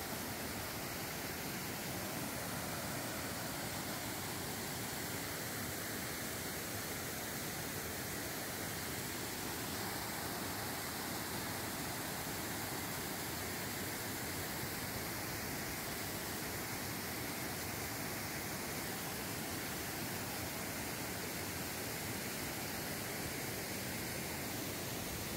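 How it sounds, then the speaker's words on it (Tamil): Water pours down steadily like a waterfall at a night fishing spot near Chennai, a dense, continuous rushing roar that holds evenly throughout with no voices. "தண்ணி வந்து அருவி மாதிரி கொட்டிகிட்ருக்கு"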